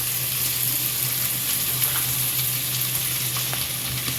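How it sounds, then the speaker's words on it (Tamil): Onions sauté with fresh coriander and mint in a hot pan for a biryani, giving a steady, even sizzle with soft crackles throughout and no voices. "இப்போ இதுவும் நல்லா வதங்கி வரட்டும். நான் மிக்ஸ் பண்ணிடுறேன்."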